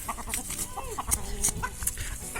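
Hens and roosters clucking and squawking inside a farm enclosure, with overlapping calls in busy bursts, fairly close and moderately loud amid general rustling.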